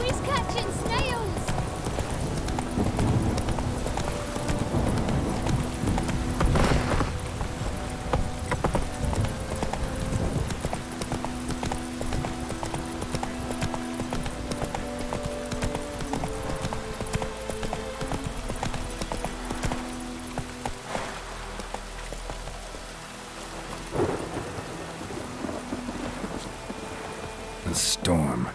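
Horse hooves clip-clop steadily through a rainstorm in The Witcher 3, with rain pattering throughout and thunder rumbling in places, plus occasional game sounds layered over the hoofbeats.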